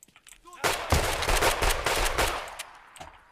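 A rapid-fire gun in the shooter game Escape from Tarkov lets off a dense, loud burst of automatic shots lasting a couple of seconds, then tails off.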